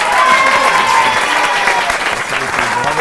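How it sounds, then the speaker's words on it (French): A studio audience at a French television show claps loudly for a few seconds, a dense crowd applause with a voice heard faintly over it. "On applaudit Benjamin et Mao."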